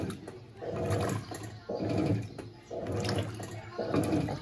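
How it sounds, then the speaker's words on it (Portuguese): An Electrolux Blue Touch 12 kg washing machine fills with water on a high level setting, the water surging in four rhythmic pulses of about a second each with brief pauses between. "Encha água, nível alto."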